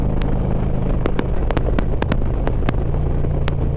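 A Harley-Davidson motorcycle is ridden on throttle along twisty roads, its engine a loud steady low drone close by with wind rush, broken by sharp ticking clicks.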